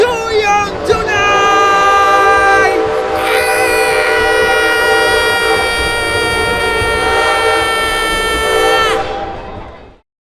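A steam train on a Halloween ride sounds a loud, close whistle that holds for several seconds, bending in pitch at the start, with the rumble of the running train beneath it before it cuts off.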